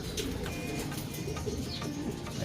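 Pigeon cooing in soft, repeated low calls against steady background noise, from a bird with an injured left leg and a bare, plucked left breast after grazing a cable.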